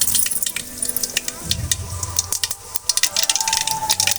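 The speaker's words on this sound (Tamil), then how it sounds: "எண்ணெய் காஞ்சிடுச்சு நம்ம கொஞ்சமாக கடுகு உள்ளே சேர்த்துக்கலாம்" Mustard seeds spit in hot oil up close, sharp crackles and pops bursting in quick irregular clusters over a soft sizzle.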